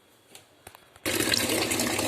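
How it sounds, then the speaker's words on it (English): After a moment of faint clatter, water suddenly gushes in a loud, steady rushing stream from a tap into a kettle. "Epic water filling montage."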